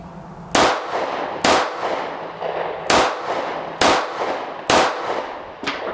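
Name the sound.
Smith & Wesson CSX 9mm pistol shots at target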